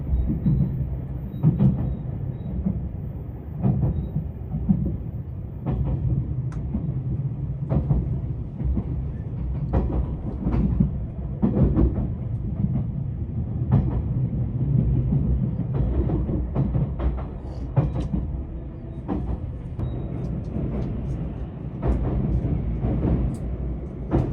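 A new 273 series Yakumo limited express train running along the Hakubi Line near Adachi Station, heard from on board: a steady low rumble of the railcar with repeated rail-joint clicks and rattles throughout, continuous and fairly loud.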